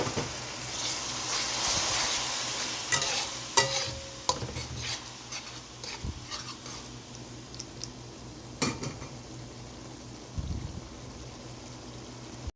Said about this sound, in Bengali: মশলাটাকে খুব ভালো করে কষিয়ে নিব